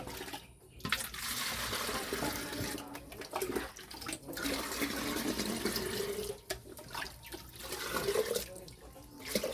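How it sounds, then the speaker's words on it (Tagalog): Water runs steadily into a container as someone fetches water for farm chickens. The faint, continuous splashing shifts slightly in tone as the vessel fills. "igiban natin para sa mga manok"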